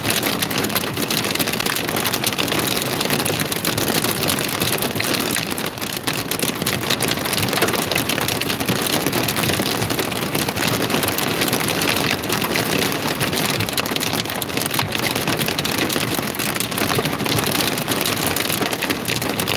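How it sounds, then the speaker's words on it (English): Large hail, about an inch across, drums on a car during a Central Texas thunderstorm, a dense, continuous roar of impacts with an engine idling underneath. "That's hail hitting the car."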